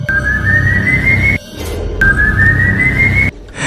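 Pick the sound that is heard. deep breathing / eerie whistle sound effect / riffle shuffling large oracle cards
eerie whistle sound effect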